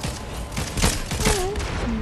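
A burst of rapid video game gunfire crackles loudly, mixed with game sound effects and a faint voice.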